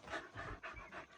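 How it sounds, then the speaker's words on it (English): A dog pants close by, four or five quick rhythmic breaths in and out, soft and breathy with nothing else heard. "That's a dog right there."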